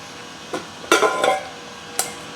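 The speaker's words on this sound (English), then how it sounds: "I grab some rice, and I put it in the rice cooker" Rice being scooped into a rice cooker pot, four distinct clinks and scrapes of grains and utensil against the pot, close and fairly loud against a quiet kitchen.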